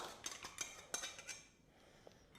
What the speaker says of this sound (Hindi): अब इसको हम फटाफट बर्तन में ट्रांसफ़र कर लेंगे डियर, सारा का सारा।